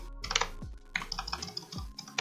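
Rapid, light clicking of keys on a computer keyboard, close and quiet, in uneven bursts with short pauses.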